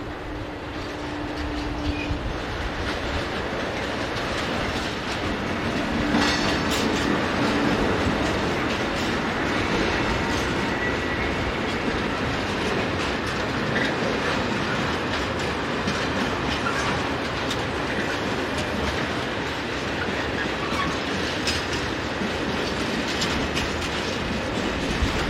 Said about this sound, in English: Seen approaching the camera on the line from Bottrop is one of RBH's 1984 built centre cab electric locos, number 13.